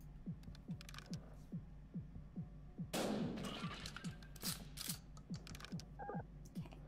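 A shotgun fires in the video game Buckshot Roulette: a sudden loud blast with a rough, decaying tail cuts in midway through a steady, ticking mechanical rhythm that keeps clicking before and after the shot.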